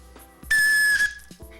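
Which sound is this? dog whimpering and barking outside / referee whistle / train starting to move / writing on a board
referee whistle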